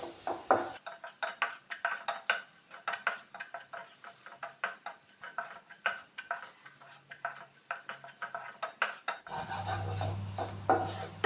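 Ginger curry ingredients with coriander powder and a pinch of asafoetida being sautéed for a Kerala sadhya, with rapid rhythmic scraping and clinking of a spoon against the pan, then a louder steady hiss near the end.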